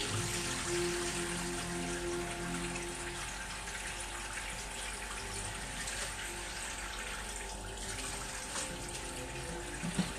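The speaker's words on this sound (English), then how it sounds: "I'm going to turn the water up really high for the next one." A kitchen tap runs at high flow while meat is rinsed for goulash, a loud continuous splashing hiss of water steady throughout, with no talk over it.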